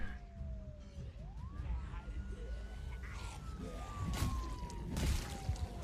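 A wailing siren sweeping up and down in pitch sounds inside the Survivor-difficulty prison of a survival video game, steady and fairly loud, with background rumble and occasional clatter beneath it.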